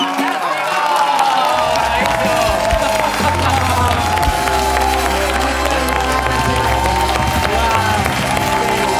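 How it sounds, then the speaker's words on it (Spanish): Loud, dense audience applause and cheering after a dance performance to a pop song, with whoops rising over the clapping while music keeps playing underneath. "¡Aplausos!"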